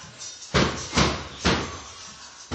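A door being offered up into its frame during installation, before screwing, giving three heavy wooden bumps and knocks spaced about half a second apart, fairly close and loud, with no talk.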